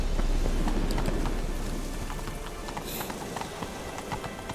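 Horse hooves clip-clop at a steady trot in the video game Witcher 3, a run of close, even hoofbeats under a faint rain-like hiss, with no talking.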